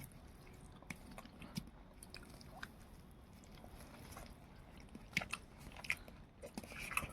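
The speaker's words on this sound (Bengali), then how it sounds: "বাবা আর ছেলে খাচ্ছে মাছটা" Two people eat a freshly grilled fish kebab, giving faint close bites and soft chewing with a few sharper crunches, in an otherwise quiet setting.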